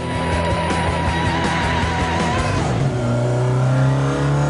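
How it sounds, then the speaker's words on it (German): Carbureted car engine revving loudly on a kart track, a steady close roar with rising and falling pitch as it accelerates and shifts, no talk over it. "So ein Geräusch kann doch nur ein Vergaser machen."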